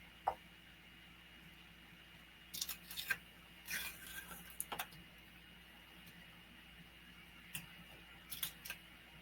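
Scissors trimming a small excess piece of paper card on a pink and white Christmas tree greeting card, a few quiet close snips in short clusters separated by near silence.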